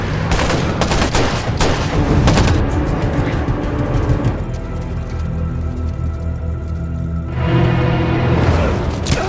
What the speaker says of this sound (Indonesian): ngston telah menyadari kehadiran tim Richard hingga terjadilah aksi tembak-tembakan